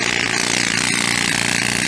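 A jackhammer pounds pavement on a city street in Montreal's Hochelaga district, a loud, rapid, continuous mechanical hammering heard close by without pause.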